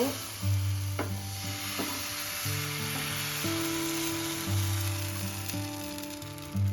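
Fish fries in a pan with a steady, close hiss and sizzle that runs throughout, alongside sustained tonal background sounds and no talking.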